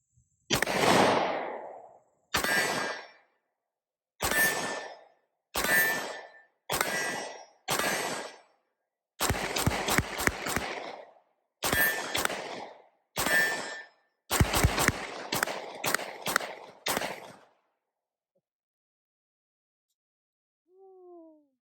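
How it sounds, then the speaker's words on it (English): A Springfield Armory Echelon pistol fires about a dozen sharp, loud shots at steel targets outdoors, spaced irregularly and then in quicker bursts, each crack followed by a ringing metallic ping from the struck steel, then silence. "Really love shooting steel target against."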